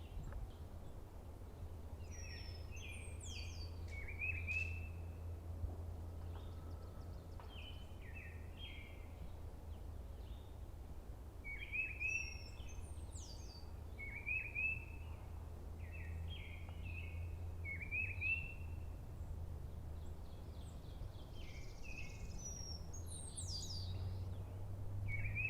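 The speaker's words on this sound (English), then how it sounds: "These birds have a very interesting buzzy song you can hear in this clip." A black-throated blue warbler sings at a park on a spring birding outing, with repeated short, buzzy high phrases at moderate distance over a low steady background rumble, and other faint chirps scattered between.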